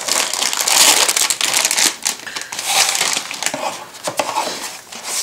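Plastic bag holding scale model kit parts for a German Sd.Kfz.251/1 half-track crinkles and crunches close up in bursts of handling, loud and rustling throughout with brief pauses.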